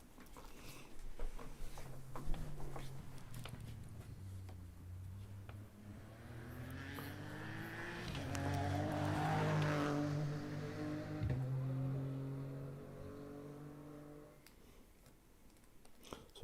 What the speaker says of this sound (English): And Sam Leach just through in his Corsa